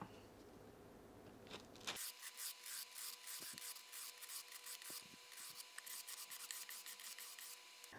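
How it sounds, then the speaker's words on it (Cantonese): Sanding fret ends on a guitar with a 220-grit sandpaper block during a refret: rapid, close scraping strokes in a steady irregular rhythm after a brief lead-in, no talking. "然後再用220號砂紙再磨一次"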